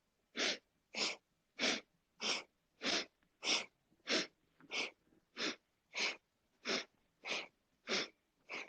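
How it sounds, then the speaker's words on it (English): Alternate nostril breathing during a yoga session: thirteen evenly spaced, sharp nasal breaths in a steady rhythm, close and clear, with quiet pauses between and no talk. "Inhaling left, exhaling right."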